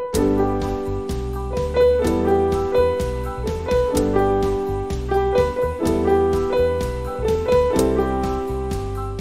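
Solo piano plays the main hook of a song as a driving repeated riff of bright single notes over low chords, steady and loud throughout, with no voices.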